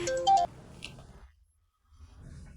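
A home telephone rings with a short electronic tone burst, followed by a faint click and near silence before low background noise returns.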